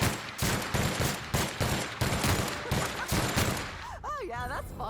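Rapid bursts of video game gunfire with heavy recoil crack out in a dense, repeating rhythm over the first four seconds, loud and close, then give way to warbling whistling effects and talk.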